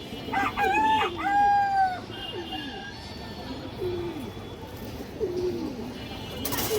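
A pair of red-eyed red pigeons coo in a loft while a rooster crows loudly nearby at the start, followed by repeated low, rolling coos close by.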